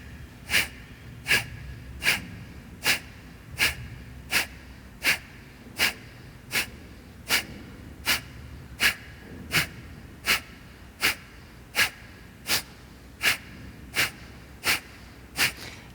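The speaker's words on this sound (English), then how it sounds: "we'll do short, quick exhale breaths" Short, sharp exhales in a classical vinyasa yoga breathing exercise sound in a steady, even rhythm of about twenty puffs, each a brief forceful burst close to the microphone over quiet background.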